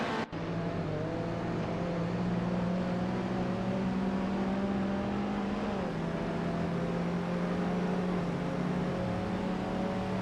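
Racing car engines from an AI racing video game, a continuous high engine whine with steady harmonics that dip briefly near the middle, as if shifting gear, then hold on, sustained with no talking.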